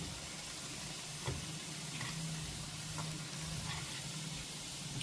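Urad dal vadas fry in hot oil with a soft, steady sizzle and faint bubbling crackle throughout, fairly quiet and with no talking.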